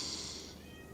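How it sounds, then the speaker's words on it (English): A hungry house cat lets out one drawn-out meow right up close, loud at first and then trailing off over low background hum. "so can't do anything about it if he does start meowing again."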